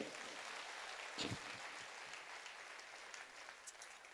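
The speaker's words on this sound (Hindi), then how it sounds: "आप चाहें तो उनके लिए तालियां बजा सकते हैं।" An audience at a Hindi poetry gathering claps steadily, a dense wash of applause heard from a distance and fairly faint, continuing throughout.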